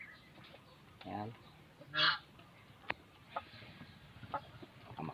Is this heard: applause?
no